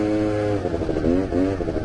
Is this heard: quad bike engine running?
yes